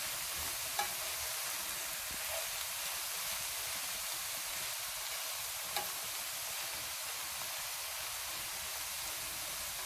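A mix of wild Aegean herbs sautés in a pan, a steady close sizzle and crackle with a few faint scrapes from stirring.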